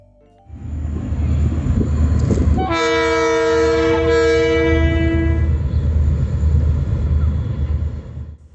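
KiwiRail diesel locomotive DL 9469 hauling a train rumbles loudly past in Tauranga while its horn blares in one long sustained blast, the engine drone continuing underneath.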